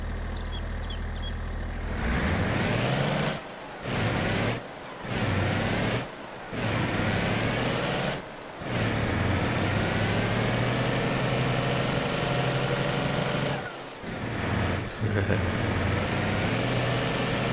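Truck in Farming Simulator 22 pulling away with a rising engine roar, then working through gear shifts with several brief drops in power between surges, loud and close throughout, with a faint hiss near the start.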